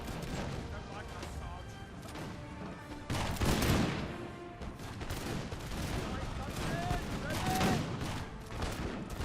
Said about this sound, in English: We have my artillery pieces firing in the background.